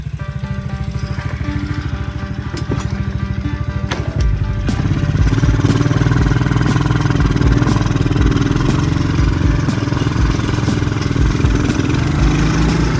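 An Apollo Commander 125cc automatic scooter with a slightly dirty carburettor runs loud and close, its engine droning unevenly and sagging as it bogs down, then settling into a heavier, rougher steady running note.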